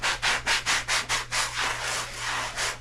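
A sanding block rubs the edges of a cheap resin-coated vase in quick, even back-and-forth strokes, close and dry, then eases into slower, longer passes with no talking.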